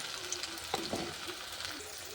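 Pakoras frying in a pan of hot oil, a faint, steady sizzle with a few soft scrapes and clinks as pieces are lifted out; no talk.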